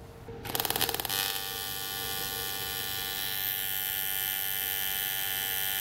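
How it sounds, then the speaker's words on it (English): An aluminum weld being run with a wire-feed welder at 83 amps along the toe of a previous bead: a brief sputtering start, then a steady, close buzzing hiss that holds for several seconds with no talking. "Run one right next to it in the toe of the weld"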